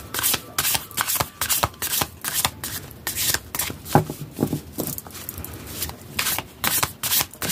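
A Belline oracle tarot deck shuffled by hand: loud, close, rapid rustling and slapping of cards in an uneven rhythm throughout, with no talking.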